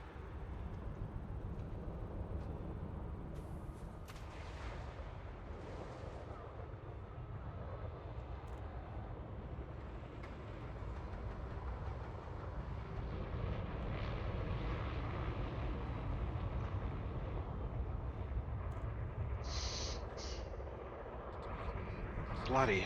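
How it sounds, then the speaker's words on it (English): Spaceship thrusters in the Elite Dangerous video game roar as a steady, dense low rumble with a hissing upper layer, swelling slightly louder over the course and topped by brief synthetic whooshes. "Intelligent thrusters initiating."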